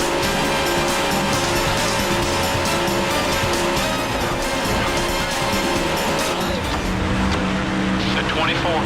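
NASCAR stock cars racing in the NASCAR Thunder 2004 video game, a steady, loud engine drone with tire noise throughout, one car passing another, and a voice talking over the racing.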